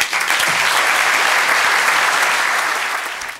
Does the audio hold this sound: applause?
yes